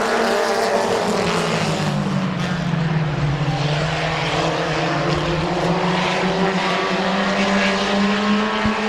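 Race cars roar around Midvale Speedway, a dirt oval, in a loud, continuous engine drone whose pitch slowly dips and rises as the pack passes, steady and close throughout.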